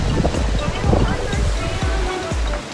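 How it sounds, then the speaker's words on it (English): Strong wind in Okinawa buffets loudly and continuously, rumbling low with gusty thumps, as if blowing straight across a nearby microphone. "Whoa! It's so windy."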